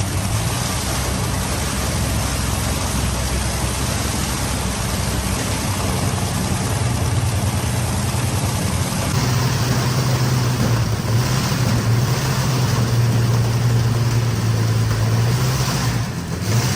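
Reconditioned engine in a Centurion AVRE tank runs slightly lumpy at idle without its clutch engaged, a loud, close, continuous low rumble that holds steady throughout with no voices.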